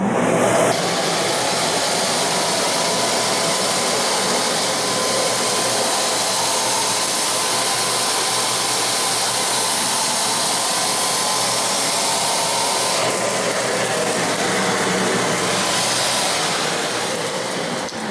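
A Shark ZU102 Rotator Pet upright vacuum cleaner runs on its hard floor setting, a loud, steady, close-up whooshing roar that holds throughout with only a slight shift in tone near the end.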